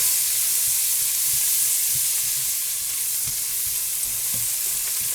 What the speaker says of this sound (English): I'm going to add a little bit of garlic, minced garlic.